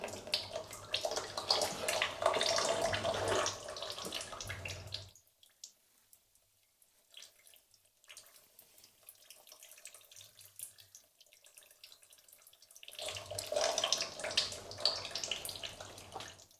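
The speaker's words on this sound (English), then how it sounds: "That's going to drip a bit of oil out now" Engine oil from a 2010 Ford Fiesta 1.2 Zetec petrol drains into a pan. A soft, steady trickle runs for about five seconds, fades to near silence with a few faint drips, then the trickle returns.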